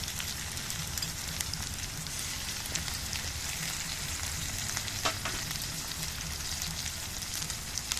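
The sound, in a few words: mixing ginger, chili and cumin paste in hot pan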